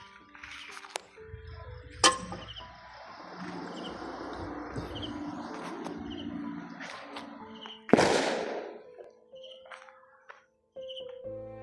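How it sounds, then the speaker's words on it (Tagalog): Firecrackers and fireworks going off in the distance and nearby, scattered sharp pops and bangs with one loud close crack, over a steady background of insect-like chirping. "Grabe yung mga paputok nila."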